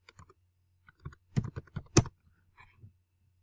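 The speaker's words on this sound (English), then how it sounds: "all you really have to do is type it into the search field here" Keys tapping on a computer keyboard as a term is entered into a search field, a scattered run of light clicks in short bursts with a louder cluster in the middle, close and alone with no talking.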